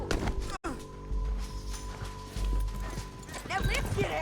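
Horse hooves clip-clopping with an occasional snort or whinny in the video game Red Dead Redemption 2, set against a sustained musical drone, with characters talking over it.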